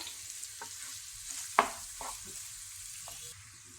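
Finely chopped onions fry in a pan with a soft, continuous sizzle, broken by a few stirring scrapes and clinks, one sharper knock standing out.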